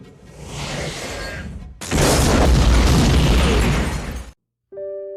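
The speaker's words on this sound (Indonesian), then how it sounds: "tidak ada yang tahu jika itu adalah rudal yang ditembakkan dari pesawat tempur" A missile fired from a fighter jet strikes a car, producing a loud close boom that swells into a long roaring blast with debris hiss, cutting off abruptly before a brief tonal electronic sound.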